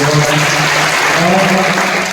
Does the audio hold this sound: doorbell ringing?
no